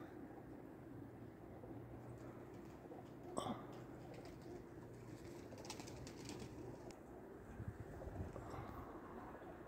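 Racing pigeons settling near a loft in Sulejówek, Poland, cooing softly and faintly at a distance over a quiet outdoor background, with one brief louder knock partway through.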